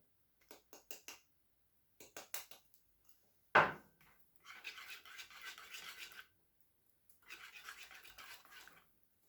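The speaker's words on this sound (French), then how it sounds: "je vais terminer de bien mélanger" Batter for a tuna and preserved lemon clafoutis is stirred in a bowl, with a few light taps, one sharp knock against the rim and then longer bursts of soft, quiet scraping.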